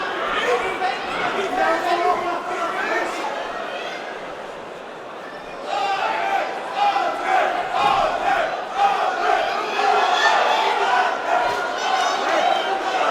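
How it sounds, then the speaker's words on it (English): A Swedish contingent of fans chants and cheers loudly inside a Manchester fight arena during a Cage Warriors bout, a sustained roar of crowd voices swelling after a brief dip, with a commentator talking over it. "the Swedish contingent making themselves heard here in Manchester"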